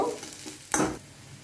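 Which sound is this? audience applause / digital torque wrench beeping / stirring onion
stirring onion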